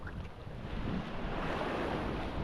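Sea waves wash steadily onto a beach at Torremolinos, Spain, a broad continuous surf roar with heavy wind rumble on the microphone.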